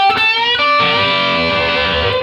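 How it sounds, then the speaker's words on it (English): A distorted electric guitar plays a double-stop bend from the solo, two sustained notes ringing bright and loud after a couple of quick picked attacks, alone with no talking. "another one of these double stop bends."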